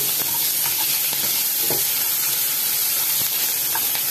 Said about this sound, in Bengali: এটা একটু নাড়াচাড়া করে দিচ্ছি।